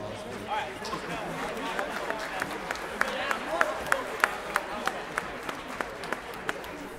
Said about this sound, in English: Will you give Will another round of applause?